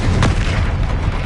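A Confringo spell blast from Hogwarts Legacy lands as one loud, deep boom with a rumbling tail that fills the whole short moment.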